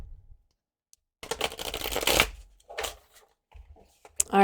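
Tarot cards being shuffled by hand, a dense riffling burst of papery flutter and snaps, then a few softer shuffles and taps, close and moderately loud with no talking.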